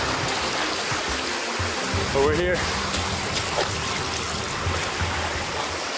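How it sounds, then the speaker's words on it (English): River water flows steadily and loudly throughout a waterfall hike, a broad continuous rush with people talking briefly over it. "We're in the river"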